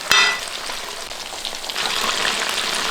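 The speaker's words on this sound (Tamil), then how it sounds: "இப்ப சிக்கனை போட்டு பொரிச்சுக்கலாம்." Chicken drops into hot oil for KFC-style fried chicken, starting with a sharp splash and then building into a steady, bright crackling fry with no voices.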